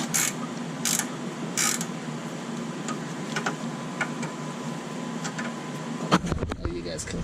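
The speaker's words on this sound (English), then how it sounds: "Now it's backing out the bolt." Ratchet backing out a bolt on the front strut of a Volvo XC70, a steady mechanical clicking running throughout at close range, with brief sharper bursts near the end.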